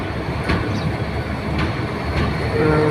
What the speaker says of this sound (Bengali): পর্যটক ট্রেনটা নিয়ে 3 নম্বর প্ল্যাটফর্ম থেকে ছেড়ে যাচ্ছে কক্সবাজার উদ্দেশ্যে।